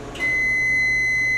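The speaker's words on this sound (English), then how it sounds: "So that's what the microwave does when it's finished. It will make this really loud beep" A microwave oven gives a single loud, sustained electronic beep signalling the end of cooking, steady and clean over a faint low hum, with no talking.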